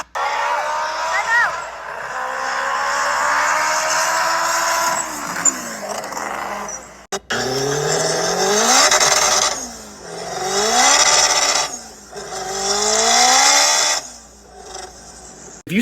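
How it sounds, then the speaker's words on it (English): A Honda Civic EX coupe with a boosted K20A engine making 550 horsepower revs hard in repeated rising and falling sweeps, loud and close, with a short break early on. "This is a Civic EX coupe making 550 horsepower with a"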